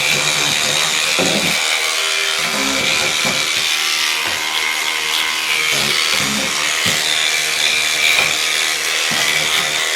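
A kHelfer rechargeable electric grout brush scrubs grime and rust stains, a close, steady motor whir broken by repeated rubbing strokes.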